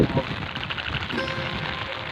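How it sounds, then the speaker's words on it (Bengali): Steady rain patters on surfaces close by in a Bangladeshi village during a storm, a dense, continuous hiss of drops with no pauses. "গুটি গুটি বৃষ্টির শব্দে যেন প্রাণ জুড়িয়ে যায়"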